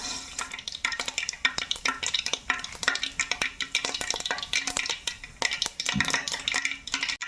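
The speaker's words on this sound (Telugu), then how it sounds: "పాత్ర అయితే కాగింది నూనె పోస్తున్నా అయితే కాగింది ఆవాలు వేస్తున్నా" Mustard seeds tossed into hot oil in a pan for fish curry, giving dense, rapid crackling pops and clinks close by, continuous and alone without talk.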